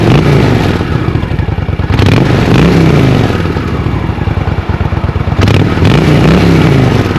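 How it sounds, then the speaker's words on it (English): A vintage Honda motorcycle with its stock exhaust idles loudly and close by, a steady pulsing thrum with slight wavering in pitch and brief clattering bursts. "I don't know if you can hear the bike, but it's idling beautifully."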